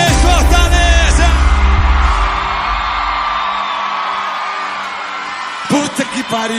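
A large crowd at a concert in Fortaleza shouts and cheers in a sustained roar, following amplified voices at the start. More voices and bursts of sound break in near the end.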